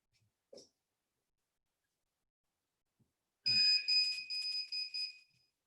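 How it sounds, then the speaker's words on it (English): The alarm on a Hikvision 4G NVR sounds as a series of shrill, high electronic beeps in rapid bursts lasting about two seconds, after a quiet stretch with a single faint knock. "you heard the alarm go on the NVR"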